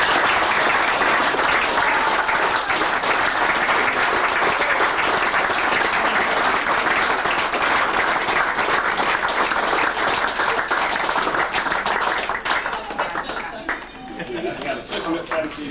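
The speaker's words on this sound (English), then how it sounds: "you need probably the biggest round of applause" A large crowd at a cricket club opening gives a long, loud round of applause for the clerk of the works, dense clapping that continues throughout and thins out near the end.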